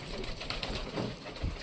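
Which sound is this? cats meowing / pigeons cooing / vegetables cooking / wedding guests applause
pigeons cooing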